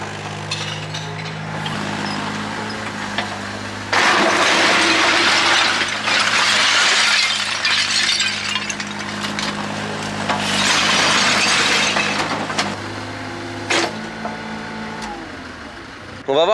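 Mini excavator loading old roof tiles into a truck: a steady diesel engine hum with loud bursts of clattering, scraping tile debris, bright impacts and grinding, close by, without speech.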